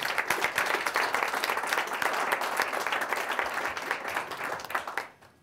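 An audience at a live music concert applauds a tabla player, dense steady clapping from many hands that holds for several seconds and then fades out.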